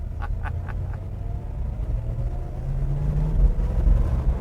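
A 1965 Ford Mustang Fastback engine runs steadily while driving, a low continuous rumble heard from inside the car that swells a little louder toward the end, with faint higher clicks early on.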